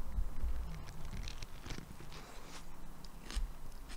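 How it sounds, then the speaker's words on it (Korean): A Subway turkey bacon sandwich with hot chili sauce is bitten and chewed close up, giving soft, repeated crunchy bites and smacks over a quiet background. "그 아삭아삭한 소리가 다 들어가고 있잖아요"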